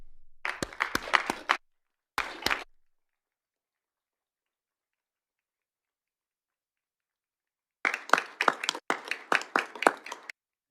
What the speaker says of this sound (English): Again, please join me in a round of applause.